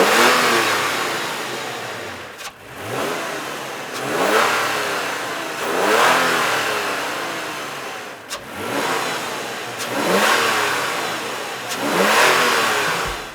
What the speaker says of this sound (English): let's test to see if we get any cool new induction sounds